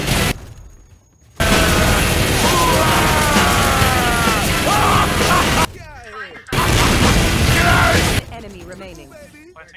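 Heavy automatic weapon fire from an ultimate ability in the tactical shooter Valorant, loud sustained bursts broken by short pauses, with a game announcer voice and player talk over the shooting.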